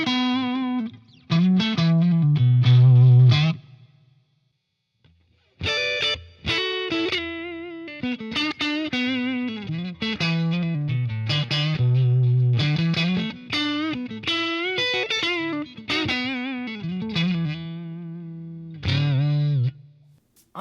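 Electric guitar played through a Soldano X88IR rack preamp into an open-back 1x12 cabinet impulse, heavily distorted with chorus-like shimmer, playing sustained chords and lead phrases in bursts separated by short pauses.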